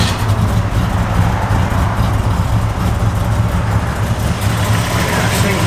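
A 1969 Plymouth Barracuda idles close by, its loud, steady rumbling engine holding an even, throbbing note throughout with no pauses.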